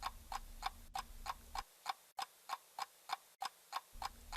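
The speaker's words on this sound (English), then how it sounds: "On the other hand, a clock ticking." A clock ticks in a steady, even rhythm, each crisp tick sharp and close, with a low background hum that drops out partway through.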